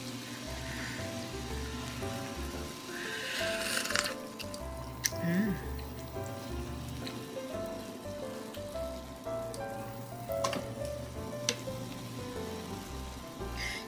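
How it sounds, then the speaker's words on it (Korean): Pot of fish cake soup with seaweed boiling, a steady bubbling, sizzling simmer with scattered pops and clinks, under brief talk. "맛있게 끓고 있습니다."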